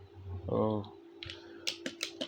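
Computer keyboard keys pressed while drawing in CAD, a few sharp clicks and taps near the end, following a moment of voice.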